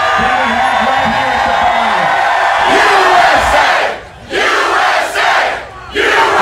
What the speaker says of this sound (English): I don't know of anywhere in the country where we find a more fired up, more jacked up, more electric crowd than we have right here